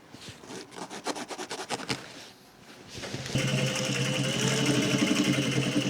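A sewing machine stitches dungaree fabric along an outseam, first in short rhythmic bursts of needle clatter, then after a pause in a steady, continuous whirring run.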